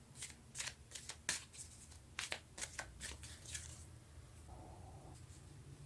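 Tarot cards are drawn and shuffled in quick, quiet bursts of papery riffling and slaps, about a dozen soft strokes spaced irregularly, then a brief faint tone as the handling stops.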